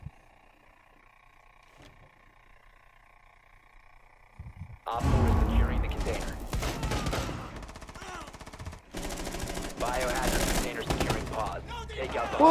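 Gunfire from the Rainbow Six Siege video game picked up by a microphone: after a quiet start, dense bursts of rapid shots and crashing impacts fill the second half, fairly loud and continuous.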